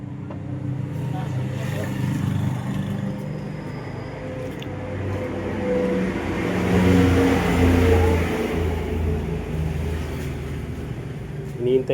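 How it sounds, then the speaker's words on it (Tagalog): An L300 diesel engine runs with a steady, close rumbling drone that swells as it revs midway, then settles back to idle. "L300 diesel."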